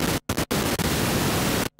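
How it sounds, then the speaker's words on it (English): Broadband hiss from a homemade 1970s-style synthesizer noise module putting out white and pink noise, loud and steady in several bursts separated by short silent gaps, with no talking. "So the noise module has an output of white noise, pink noise,"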